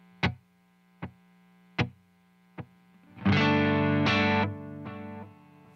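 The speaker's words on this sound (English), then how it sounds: "We're just gonna do a regular quarter note delay, analog quarter note delay with just minimum repeats." Electric guitar run through an analog delay pedal set to quarter-note repeats with minimal feedback: four sharp plucked notes echo in a steady pulse, then a loud sustained chord rings and slowly fades, with no one talking.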